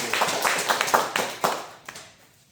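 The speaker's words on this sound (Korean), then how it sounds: "우리 하나님께 영광의 박수." A small church congregation of about ten people claps briefly, a close burst of a dozen or so uneven hand claps that thins out and fades into quiet.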